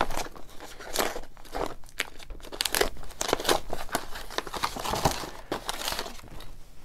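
Crinkling and tearing of a taped package being opened by hand, close and fairly quiet, with irregular rustling bursts and ripping sounds throughout.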